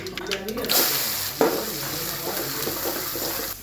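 Chopped onion hits hot oil already holding curry leaves for a Gujarati-style tempering, giving a steady close-up sizzling hiss that swells with a brief sharper burst partway through.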